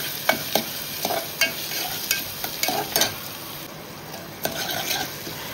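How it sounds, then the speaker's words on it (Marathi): Green chili, ginger, garlic and onion sautéing in a pan, a soft sizzle broken by repeated spoon scrapes and stirring clinks against the metal, close up and irregular, with no voices. "व्यवस्थित आपण परतून घेऊया।"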